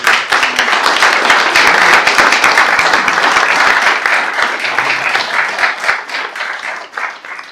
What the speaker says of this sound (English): I take that applause for our people